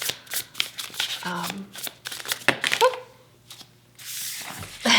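Tarot cards shuffled by hand in repeated short riffling bursts, close and fairly soft, with brief gaps between handfuls and a final longer rustle.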